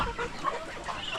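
Native chickens and chicks cluck and peep softly in a brief burst of farmyard sound, close but quiet.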